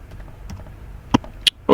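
A few scattered keystrokes on a computer keyboard as a name is typed, sparse sharp clicks against faint background hum, close and quiet apart from the taps.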